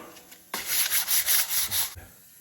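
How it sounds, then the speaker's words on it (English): Sanding gasket material off the head of a Continental Z134 engine from a Massey 35 tractor: about six quick back-and-forth abrasive rubbing strokes, close and fairly loud, framed by brief quiet. "Sometimes you can see a little bit of gasket material after you sand."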